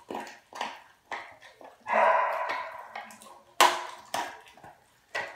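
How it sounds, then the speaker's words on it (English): An American Bully dog barks and yips in short, sharp bursts separated by pauses, fairly close and moderately loud, with some whimpering sounds mixed in. "I can't stand the way Queen is barking right now"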